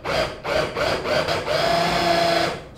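A food processor pulses ginger, garlic, spring onions and lime in several short bursts of loud whirring motor noise. After them comes one longer run, all close up with no talking.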